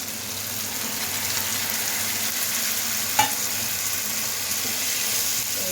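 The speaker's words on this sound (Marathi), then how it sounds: "चला आता बटाटे टाकून देऊया त्याच्यात." Potatoes sizzling in a hot pan after tomatoes, a steady soft frying hiss with a brief clatter midway, no voices.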